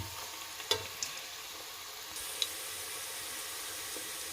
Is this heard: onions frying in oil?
yes